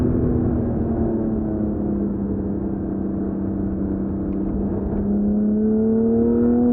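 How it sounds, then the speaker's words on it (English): A flat-six car engine droning steadily under load, its tone sagging slightly then climbing again, heard from inside the car as it heads downhill on a road course. "Flat six. Sing."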